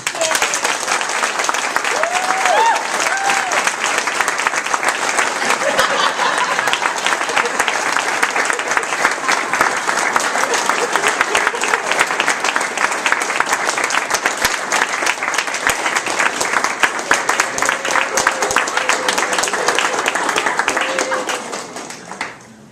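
Sustained audience applause for Todd Taylor as he receives his Distinguished Toastmaster award at a Toastmasters District 10 spring conference: dense, steady clapping from a sizeable crowd for about twenty seconds that tapers off at the very end.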